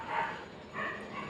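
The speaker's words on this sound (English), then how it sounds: "excuse the dogs" Dogs barking indoors somewhere away from the microphone, two muffled bursts with a brief gap, fairly faint and alone with no talk.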